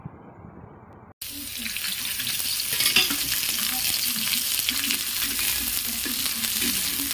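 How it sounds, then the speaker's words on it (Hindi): Chopped onion frying on a hot tawa griddle, a steady loud sizzle and crackle with soft stirring and scraping underneath, continuous and close after a brief quieter start. "अम्मी तवे पे फ्राई कर रहे हैं सुनहरे कलर लाने तक का ये ऑनियन"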